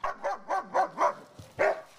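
Family dogs bark at a would-be burglar in a quick run of five loud, close barks, then a brief pause and one more bark, with yelping tonal edges and no voices.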